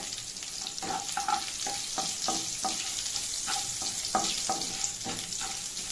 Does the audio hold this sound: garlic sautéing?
yes